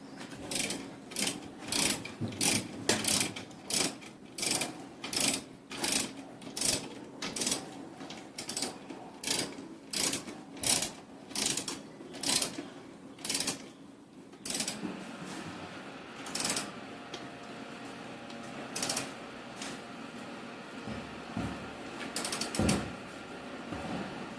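Repeated ratcheting clicks in a steady rhythm as a torque wrench tightens a bolt to 17 newton metres during chain adjustment on a Royal Enfield Interceptor 650 motorcycle, each stroke sharp and close, followed by quieter scattered mechanical clacks.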